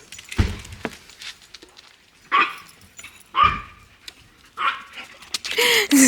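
A dog gives several short barks and higher whimpers and yips in bursts, fairly close, while a person greets it softly between the sounds.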